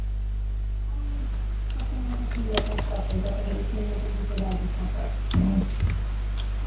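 Sparse keyboard clicks and taps sound over a steady electrical hum, with faint talking underneath.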